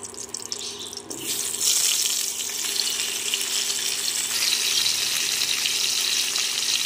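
Long strips of potato dropped into hot oil already used for fish, for a katla kalia: a sudden burst of bubbling sizzle that swells into a steady, loud, hissing fry, close and continuous.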